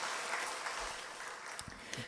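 Congregation applause of welcome during a Korean church service, a faint, steady wash of clapping throughout with some brief low thumps near the end.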